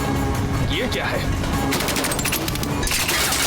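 Rapid bursts of gunfire crackle through a film car chase in the hunt for Akhenaten's tomb, sharp volleys layered over engine roar and tense dialogue.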